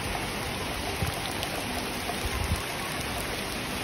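Steady rain falls in a park with a dense, continuous hiss and patter, and a few heavier drops land close by.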